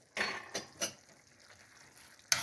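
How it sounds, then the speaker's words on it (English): Homemade hamburger barbecue sauce with brown sugar being stirred in a pot, giving a few quiet spoon scrapes and clinks over a faint simmering sizzle. "And stir that up, and I'm just going to let that simmer for as long as it needs to, so that it's nice and thick"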